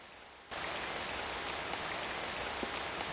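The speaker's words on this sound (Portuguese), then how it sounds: "Essa chuva aqui." Steady rain falls in the PS1 horror game Clock Tower: The First Fear, a dense even hiss that switches on abruptly and continues unbroken, with an occasional faint tap.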